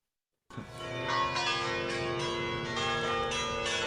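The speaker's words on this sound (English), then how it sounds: "one of them is the sound like bells from a church" A church-bell sample rings out after a short silence, layered bell tones swelling and sustaining in a rich, continuous wash with no talking.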